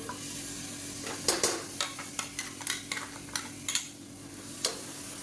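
Blended tomato sautéing in oil in a pan for a radish curry, a low steady sizzle under repeated sharp scrapes and taps of a spoon stirring against the vessel.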